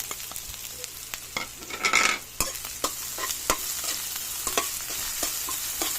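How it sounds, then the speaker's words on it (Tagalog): Onions are stirred into a hot pan of sautéed garlic for Filipino laing, a close scraping and clatter of a utensil over a continuous, brisk sizzle, with no talking. "Mix na natin guys ang sibuyas"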